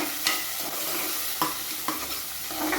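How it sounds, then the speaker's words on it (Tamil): Onions and curry leaves are sautéed in a pan for a carrot and beans poriyal: a steady soft sizzle under a few sharp spatula scrapes and taps against the pan. "இது கொஞ்சம் பச்சை வாசனை போகிற வரைக்கும் நம்ம வதக்கி விட்டுக்கலாம்."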